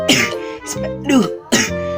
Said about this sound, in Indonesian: maaf ya, aku yang lagi batuk.